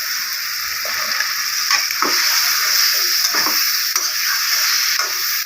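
Potatoes and pointed gourd frying in a pan, a steady loud hiss and crackle of hot oil running throughout, with occasional scraping pulses from stirring the vegetables.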